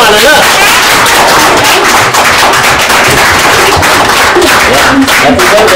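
A crowd applauds at a child's birthday celebration at a children's home, a loud, dense burst of many hands clapping rapidly and continuously from start to finish.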